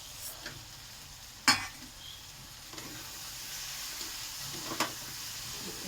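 A home-style Bengali dish being stir-fried and cooked down in a pan with sugar added, with a low steady sizzle and a few sharp scrapes and clanks of a spatula against the pan.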